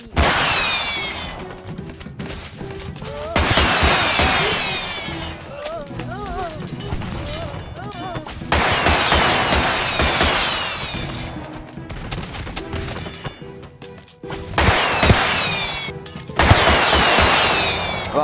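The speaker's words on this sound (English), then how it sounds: "most of those bullets were wasted on the wall" Gunfire in the Totally Accurate Battle Simulator video game's Wild West campaign, with several loud bursts of rapid shots separated by quieter stretches, and a voice talking between volleys.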